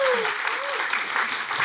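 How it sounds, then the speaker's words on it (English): Audience applause at a film screening Q&A, steady dense clapping throughout a short burst with a faint voice briefly audible over it. "Another round of applause."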